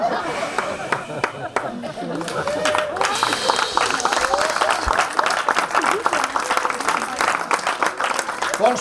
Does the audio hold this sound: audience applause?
yes